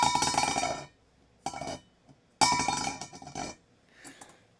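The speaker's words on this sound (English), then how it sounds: "And dropping works too, and so we can get some good dropping sounds" A metal object dropped and clattering, two main bursts of bright metallic jangling that ring and fade, with a smaller rattle between and a faint one at the end, close and without talk.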